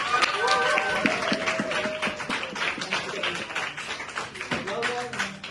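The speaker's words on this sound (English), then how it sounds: "Please give them another applause" An audience claps for students at an event, a steady mid-level patter of many hands filling the room while a voice talks over it.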